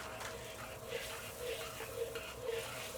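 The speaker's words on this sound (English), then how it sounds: "while I'm stirring, I'm going to thicken this sauce up" Cornstarch slurry stirred into a sauce in a wok while making sesame beef, a faint, steady scraping and bubbling texture with soft irregular swells throughout.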